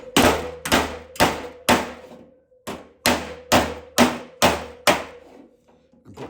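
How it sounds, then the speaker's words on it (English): Cross peen hammer face striking sheet steel held on a dolly during metal bumping: about ten loud, ringing blows in a steady rhythm, each with a sharp attack and short metallic decay, close up with no talk. "I'm hitting the steel."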